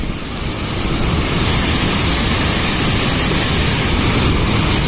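A large waterfall at Harichandragad in Maharashtra, reached on a trek, gives a loud, steady roar of crashing water that holds constant and close throughout, with no voices.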